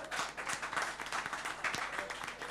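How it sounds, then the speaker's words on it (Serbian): An audience at a music event in a winery applauds, a steady patter of many hands clapping heard faint and somewhat distant, with no talk over it. "Jedan aplauz za Kristijana, molim vas, može, bravo."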